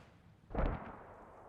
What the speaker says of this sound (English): The German mortars just trying to soften up the defenders